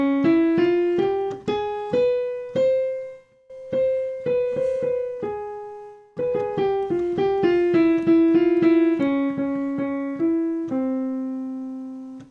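An Indian Bhairava scale played note by note on a keyboard, rising and then falling in steady, distinct strikes that ring on, with brief pauses between phrases, solo and clear.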